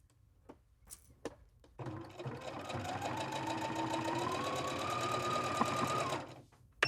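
A sewing machine runs steadily for several seconds, stitching quilt block pieces for a drawstring bag, its needle chattering in a fast even rhythm close by after a few brief taps and handling noises.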